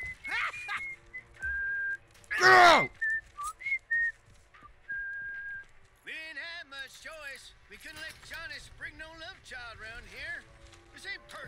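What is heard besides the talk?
person whistling loudly over voice chat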